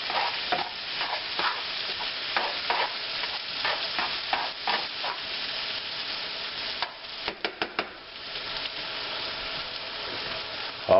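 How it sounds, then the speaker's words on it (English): Stir fry sizzling steadily in a hot pan while a utensil stirs and scrapes through it, with sharp clacks and rhythmic stirring strokes over the continuous frying hiss. "Give it another stir."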